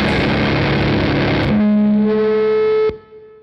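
Guitar feedback through a DOD FX69 distortion pedal, imitating whale calls: a dense distorted roar collapses into a sustained, sliding feedback tone that rings loudly before cutting off abruptly.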